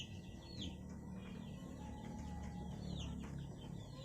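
Young chicks in a coop cheep and cluck in short, repeated calls over a constant low hum and rustle, fairly faint and without any talk.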